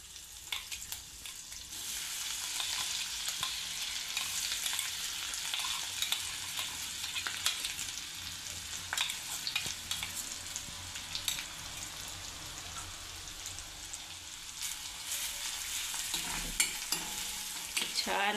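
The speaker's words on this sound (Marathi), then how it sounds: "तेल गरम झालेलं आहे. आता हे वाटण आपण टाकून घेऊ." Ground chutney paste sizzles and spatters steadily in hot oil in a wok, with scraping stirs throughout, close and continuous for the whole stretch with no talking.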